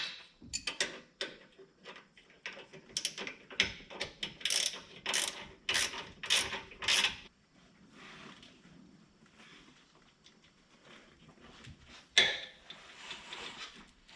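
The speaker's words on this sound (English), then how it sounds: "I'll tighten this up with the ratcheting wrench first, and then we'll use the breaker bar to get it nice and snug" A ratcheting wrench tightens differential drop bolts on a Toyota FJ Cruiser or 4Runner, producing rapid bursts of sharp clicking for several seconds, then quieter handling sounds and a final clunk as a breaker bar snugs the bolt.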